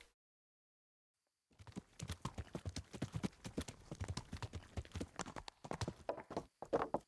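Horse hooves clip-clop in a quick, steady galloping rhythm while riding in the video game Kingdom Come: Deliverance, starting after a silent opening and continuing close and clear to the end.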